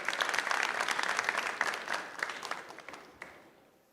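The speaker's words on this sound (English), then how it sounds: "A round of applause for him as he comes on stage as well." Faint audience applause at a film festival event, a burst of brisk clapping that thins out into a few scattered claps and fades away.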